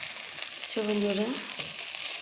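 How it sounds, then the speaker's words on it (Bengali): Vegetable bhaji frying in a pan at home, a soft continuous sizzle with a brief tonal whistle partway through. "ভাজা ভাজা হয়ে গেছে, একটু বাকি আছে, নামিয়ে নেব।"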